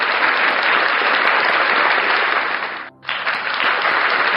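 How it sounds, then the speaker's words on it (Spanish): A congregation at a church sermon breaks into loud, sustained applause, dense clapping that dips for a moment before surging again. "a esto yo digo amén y doy un gran aplauso"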